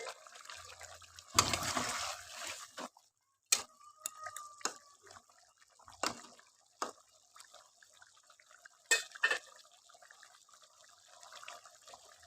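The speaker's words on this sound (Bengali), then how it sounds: "আমি এবার এই যে ঠান্ডা জলটা দিয়ে দিলাম" Cold water splashes into a pot of cooking mutton in a short close rush, followed by scattered drips, utensil taps and light clinks against the pot.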